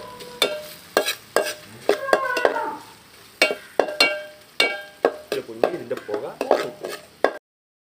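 Slit green chillies frying with crushed ginger and garlic in a pan for a clam roast: busy stirring with sharp spatula knocks and scrapes over a steady sizzle, close and rhythmic, ending abruptly.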